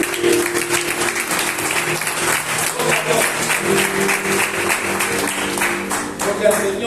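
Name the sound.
church congregation applause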